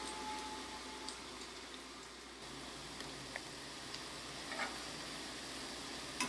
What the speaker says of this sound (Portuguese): Nós vamos aguardar essa primeira leva fritar